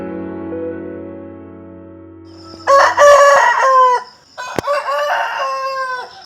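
A rooster crows loudly twice in close range amid chickens, following a steady low hum at the start.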